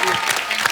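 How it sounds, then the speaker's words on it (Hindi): A studio audience on a Hindi TV comedy show bursts into a short, dense round of clapping, loud and close, filling the whole moment. "एक बार प्रियंका चोपड़ा और रोहित के लिए जोरदार तालियां हो जाए"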